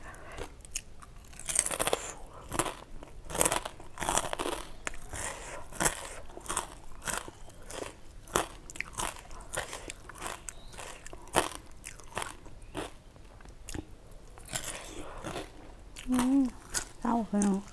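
Close, crisp crunching and chewing of a spicy cooked shrimp salad, repeated bites in a steady rhythm for the whole stretch, with a person speaking between mouthfuls.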